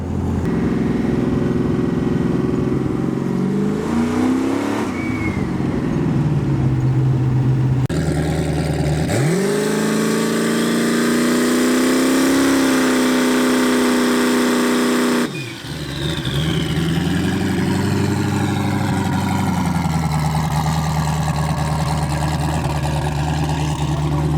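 LS-swapped Ford Mustang engine running loudly and continuously, revving up and settling in several sustained swells with a brief dip partway through, close and dominating throughout.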